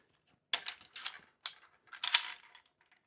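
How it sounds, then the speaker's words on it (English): A clamp is fitted onto the knuckle grip head of a C-stand, giving several quiet metallic clicks and ratcheting bursts in quick succession, close and alone without talk. "we're just going to get this mounted on to the knuckle or grip head of our C-stand"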